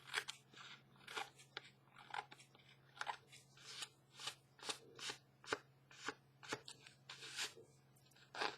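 Scissors snip repeatedly through a paper napkin while trimming a garden collage journal card, a steady series of close, crisp cuts about once or twice per second with no talking.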